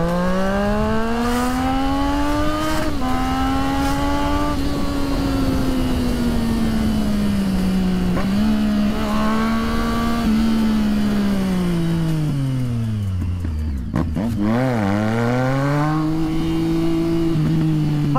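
Motorcycle engine running steadily close by in a city street near a hospital, its pitch rising and falling as the rider revs and shifts through gears, with a deep dip and recovery near the end.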